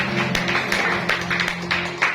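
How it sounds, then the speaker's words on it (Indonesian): A church congregation gathered for Sunday worship claps together, giving rhythmic bursts of applause over sustained keyboard or organ music in the hall. "Tepuk tangan makmur bagi Allah."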